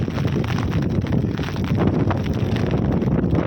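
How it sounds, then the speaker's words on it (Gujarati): Gusty wind during rain buffets the microphone in a continuous rough roar, loud and close, with no voices heard, while buffaloes graze. "વરસાદ છે પવન પાછો વધારે"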